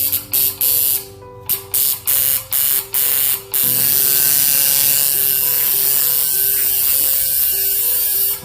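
A tattoo machine buzzes in short on-off bursts, about six quick pulses, then runs continuously with a steady high mechanical whir and tonal hum, loud and close.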